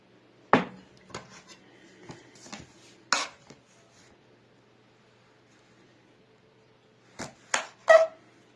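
A knife slices along the edges of an aloe vera leaf, producing a handful of sharp, scattered cutting and tapping sounds at close range, separated by quiet pauses.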